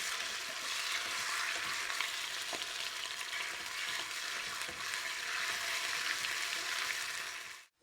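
Ginger and turmeric paste frying in a hot tempering for jaggery-ginger winter cough tablets makes a loud, even, continuous sizzle, close and unbroken until it cuts off at the very end, with no talking.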